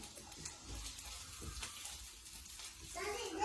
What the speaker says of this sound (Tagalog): Tapos magdagdag tayo ng tubig.